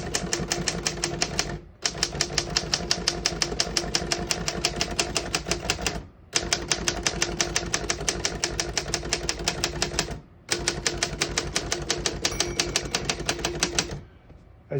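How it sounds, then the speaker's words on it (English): A 1955 Royal HHE vintage desktop typewriter with Elite typeface clatters through fast, even runs of keystrokes, with brief silent pauses between lines, loud and close. "I was able to type all the letters on the keyboard on one line because this has Elite typeface"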